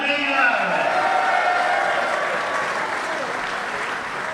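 Speedway crowd at Poole applauding and cheering a rider at a National League Riders Championship meeting, steady dense clapping and cheers throughout, with a voice over the public address.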